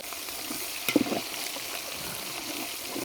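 Onion fries in a pot with garlic and ginger paste for an aloo chicken dum biryani, a steady close sizzle broken by a brief clatter of stirring near one second.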